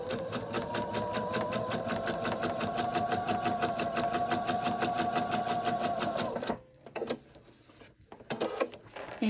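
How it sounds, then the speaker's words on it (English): A sewing machine runs steadily, stitching quilt fabric pieces along a line with a fast, even mechanical chatter for about six seconds, then stops and gives a few short stuttering bursts as the fabric is adjusted, close and loud. "And I'm going to sew on the line here."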